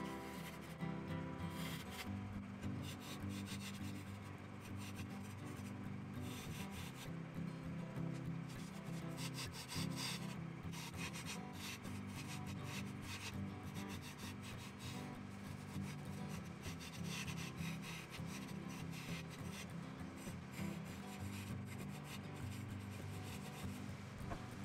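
A 3/8-inch fingernail bowl gouge cuts a spinning wooden burnisher on a lathe, giving a steady, continuous rasping and scraping drone with a low motor hum underneath, unbroken for the whole stretch and with no voices.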